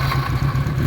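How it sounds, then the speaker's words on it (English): A late-1970s Benelli 250 Quattro four-cylinder motorcycle engine, already warm, runs loud and close in a brief burst with a buzzing, rough tone, alone without talk. "It's already warmed up, so don't worry that I'm revving it."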